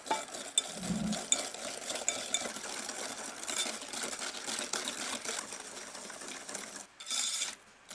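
Butter is whisked into an egg mixture for a banana and brown butter tart, giving a busy, continuous metallic whisking rattle against a bowl, close and steady with brief pauses.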